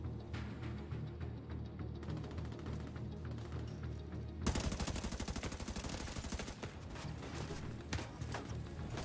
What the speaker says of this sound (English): You're shooting at me.